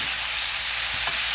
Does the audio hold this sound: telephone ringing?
no